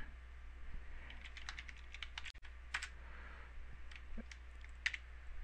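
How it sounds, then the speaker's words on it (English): A password is typed on a computer keyboard in quick, irregular bursts of light key clicks, close and clear over a faint steady hum. "Type in your password."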